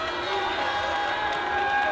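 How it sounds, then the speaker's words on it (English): Spectators at a Canadian national dodgeball bronze-medal match cheer and call out long woos, a steady, dense crowd roar held throughout with no clear break. "You can hear the crowd getting really into this. This is going to be good. These aren't boos. These are woos."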